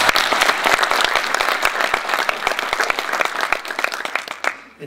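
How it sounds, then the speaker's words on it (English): Warm applause from an audience at a school open house, loud dense clapping with distinct nearby claps that tapers off at the end. "Let's give them a warm round of applause."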